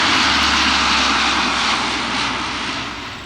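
Loud, steady roar of a Lockheed C-130 Hercules with four Allison turboprop engines, a broad continuous drone with low propeller hum that fades slightly toward the end, no voices.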